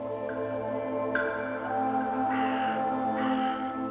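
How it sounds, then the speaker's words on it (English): Fan-tailed ravens calling over baked desert land above Wadi Mujib in Jordan, two harsh croaking caws sounding at a moderate distance over a steady hum of background ambience. "The baked land lying above Wadi Mujib has given rise to fan-tailed ravens."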